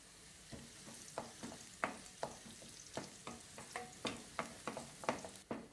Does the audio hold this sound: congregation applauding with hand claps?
no